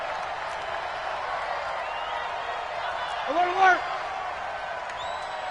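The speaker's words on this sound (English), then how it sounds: "Here comes a big one as this crowd gets up making some noise." A football stadium crowd at a Steelers vs Browns game holds a steady, broad roar throughout, with a short swell late on, while a play-by-play announcer talks over it.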